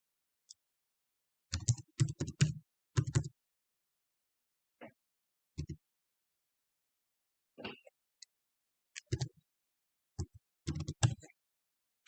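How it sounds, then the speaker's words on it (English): A password is typed on a computer keyboard in a series of close, crisp key clicks in short bursts separated by pauses, with a quiet background. "So I'm gonna just type in my password before we proceed to the next step."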